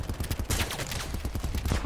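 Gunfire in a shooter video game rattles through the whole moment as a dense, rapid string of close automatic shots, steady and loud without a pause.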